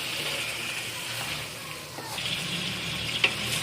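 Chicken fries in a karahi while being stirred, a moderate sizzle with watery bubbling and an occasional sharp clink of a utensil against the pan.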